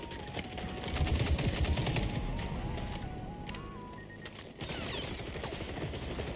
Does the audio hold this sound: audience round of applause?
no